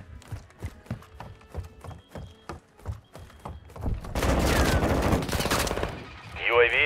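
Rapid suppressive gunfire in Call of Duty: Modern Warfare II rattles as a run of sharp repeated shots, then builds into a dense, loud burst of fire followed by a whooshing effect.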